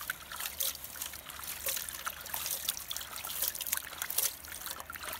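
Water trickles and splashes steadily as gravel is rinsed in a Gold Hog flow pan, a close, continuous wet dribbling with small splashes and no talk.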